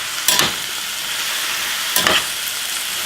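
Dried parsley is stirred in a hot pan, two brief scraping stirs rising over a steady sizzling hiss, close and alone.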